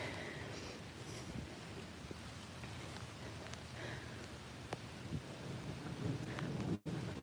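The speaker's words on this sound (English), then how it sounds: "I'll hear that thunder." Steady rain with low rumbling thunder rolling underneath, a constant wet hiss throughout and a few sharper cracks near the end.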